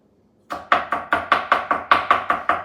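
A kitchen knife chops onions on a cutting board: a quiet pause, then about eleven crisp, evenly spaced thuds in a quick steady rhythm, close and clear.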